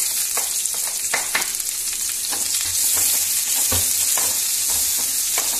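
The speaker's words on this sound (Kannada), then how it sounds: "ಮೂರನ್ನ ಹಾಕಿ ಚೆನ್ನಾಗಿ ಗೋಲ್ಡನ್ ಕಲರ್ ಬರೋವರೆಗೂ ಚೆನ್ನಾಗಿ ಫ್ರೈ ಮಾಡ್ಕೋಬೇಕು" Onion, Byadgi chillies and curry leaves fry in hot oil for a potato and pea gojju, a loud continuous sizzle with scattered crackles and the taps of stirring, close up and without speech.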